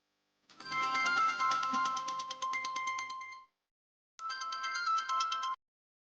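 A phone ringtone plays during a call in a Tamil TV serial, a bright repeating melodic tone that rings loudly for about three seconds, pauses, then rings again briefly, with no talking.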